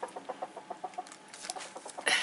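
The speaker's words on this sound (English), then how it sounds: "that's my chicken down on the floor if you're wondering what the noise is" A pet chicken down on the floor clucks in a quick, soft series of short calls, fairly distant and faint, with a slightly louder burst at the end.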